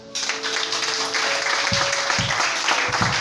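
A church congregation in Gabon claps together in rapid rhythmic bursts, moderately loud, with faint voices underneath.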